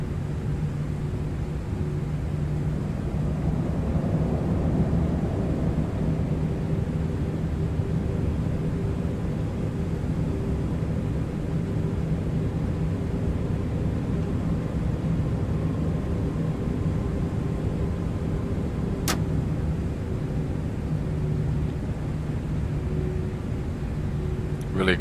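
Brand-new jet engines on a Lufthansa airliner taxiing toward the runway at Istanbul, heard as a steady broadband rumble and hiss with a low engine drone, sustained and fairly distant-sounding, with a brief sharp click near the end.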